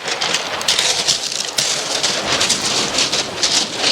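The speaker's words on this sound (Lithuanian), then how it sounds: "Prasibraut greitai pro tą krentantį lietų." Rain or dripping water falls at a coastal cave in Madeira, a loud, dense, close patter and splashing that continues without a break.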